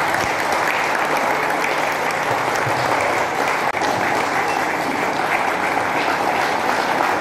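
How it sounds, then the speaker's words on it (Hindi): An audience at a motivational talk in Sitarampur stands and gives a sustained, loud round of applause to welcome the speakers. The clapping is dense and continuous throughout, with no talking over it. "अपनी अपनी जगह पे खड़े होकर उनके लिए पावर पैक जोरदार तालियों से उनका स्वागत किया जाए।"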